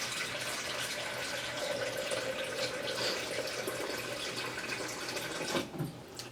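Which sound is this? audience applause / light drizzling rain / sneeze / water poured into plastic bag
water poured into plastic bag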